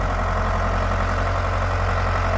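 A tractor engine idles with a steady low throbbing rumble, close and constant throughout, with no speech.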